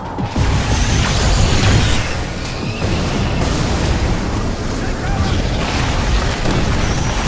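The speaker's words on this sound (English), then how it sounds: "Use the ion cannon to eliminate the base." Ion cannon strike from Command & Conquer 3: Tiberium Wars, a loud, sustained booming explosion with crackling debris that rumbles on for several seconds.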